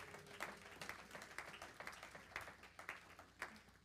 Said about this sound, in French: Clap for His name.